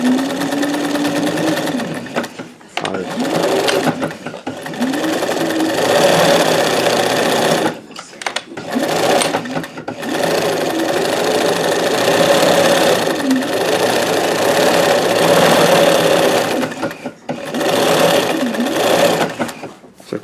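A Janome 672 or Singer 161720 sewing machine stitches a moonscape quilt in steady whirring runs, pausing briefly several times between bursts, with speech in between.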